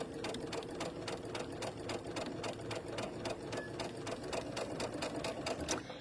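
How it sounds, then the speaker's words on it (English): A sewing machine stitches a quilt along its center diagonal line, a quiet, fast, even mechanical clatter of needle strokes running steadily throughout, with no talking. "So right down the center, we're stitching right on that center diagonal line."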